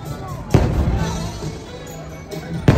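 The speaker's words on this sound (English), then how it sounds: "Fireworks." Fireworks explode at Magic Kingdom: two loud, sharp bangs about two seconds apart, with a rumbling wash of crowd noise and voices between them.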